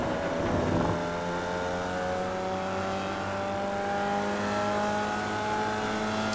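Formula Vee race car engine lapping Laguna Seca in the iRacing sim, a steady droning buzz whose pitch climbs and shifts through gear changes, loud and continuous throughout with no talking.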